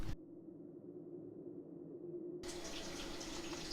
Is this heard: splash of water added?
yes